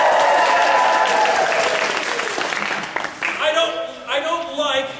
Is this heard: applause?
yes